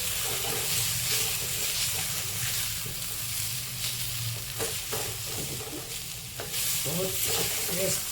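Kundru bhujiya being stirred in a pan after fresh coriander leaves go in, a steady scraping and soft sizzle running continuously close by, with no talking.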